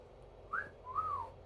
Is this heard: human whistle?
yes